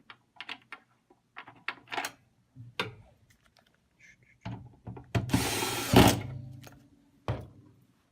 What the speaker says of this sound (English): make sure we get the screws back in the right place